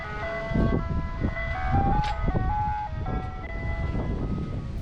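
An ice cream truck's chiming tune plays steadily nearby in Ocean City, a summer beach town, its melodic notes repeating over a rumble of traffic and street noise.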